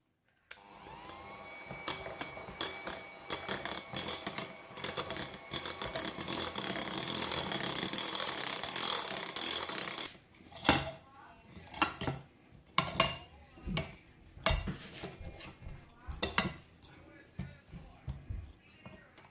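Orange and coconut cake batter is mixed in a bowl, first with a steady, whirring electric mixer for about ten seconds, then by hand with irregular clinks and scrapes of a utensil against the bowl.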